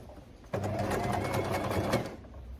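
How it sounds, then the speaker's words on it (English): A sewing machine stitches fabric for a bag, running in one steady, even burst of about a second and a half between quiet moments. "I'm going to sew for about 1 centimetre, even 1/2 centimetre is enough."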